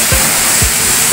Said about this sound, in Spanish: agua limpia